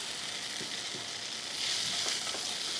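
Onion frying in butter in a pan hisses in a steady close sizzle, with faint stirring clicks and a slight swell in loudness partway through, with no talk.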